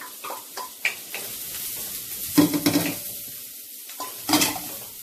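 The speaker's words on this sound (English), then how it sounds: "make sure your wok is super, super hot because you want this to fry at a really high temperature" Broccoli hitting a very hot wok for shrimp fried rice, with bursts of sizzling and the clink and scrape of stirring against the pan, close and moderately loud.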